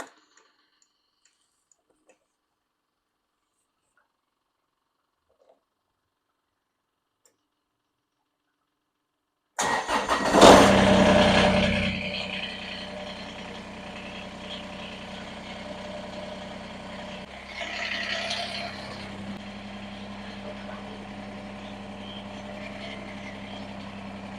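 A Kubota BX2380 compact tractor engine cranks after a long silence, catches with a loud burst, then settles into a steady rattling diesel idle nearby.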